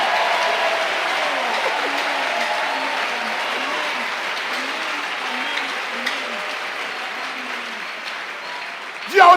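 Sustained applause from a church congregation fills the hall at a steady level, with a melodic voice weaving faintly beneath the clapping and a brief sharper burst at the very end.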